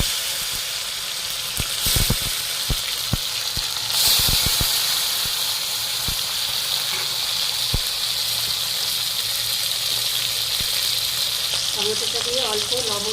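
Chopped tomatoes sizzling in hot oil over a tempering of whole garam masala, bay leaf and chilli: a bright, steady hiss broken by sharp utensil clinks against the pan.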